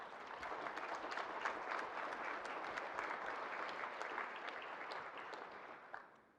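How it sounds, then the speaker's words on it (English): A conference audience applauds after a lead sponsor is thanked, a dense, sustained burst of clapping that holds steady for several seconds before fading at the end. "Can we give a big round of applause and thank Coca-Cola?"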